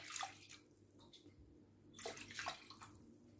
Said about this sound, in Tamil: இந்த கப்பிலையே நான் 3 கப் அளவுக்கு தண்ணி சேர்த்திக்கலாங்க.